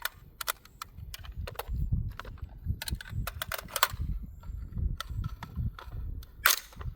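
A rifle fitted with a magnetic buffer system fires a single round, a sharp loud crack near the end after scattered handling clicks and low rumbling noise.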